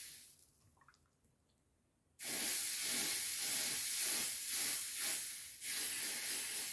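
Foundry coating of talc and graphite sizzles and evaporates off a hot steel plate heated by a torch, a sudden loud, steady steam hiss that bursts in after quiet and holds with slight surges.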